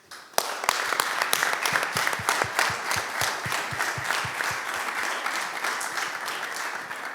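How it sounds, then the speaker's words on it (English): Warm applause from a conference audience at a medical diagnosis and prevention session in Lyon, with a few sharp individual claps at the start before the clapping swells into steady, dense applause that carries on throughout. "So please a warm applause for our former president, Alfred Gatz."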